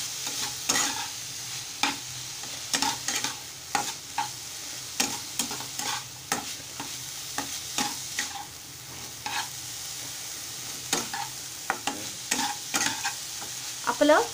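A spoon stirs a grated fresh coconut, jaggery, turmeric and cardamom mixture in a hot kadhai, giving repeated scraping strokes and clinks over a soft sizzle, with no voices.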